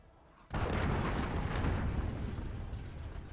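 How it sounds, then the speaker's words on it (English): A heavy missile explosion in a modern warfare video game bursts suddenly after a quiet moment, then rumbles and decays loudly over several seconds. "Missile incoming."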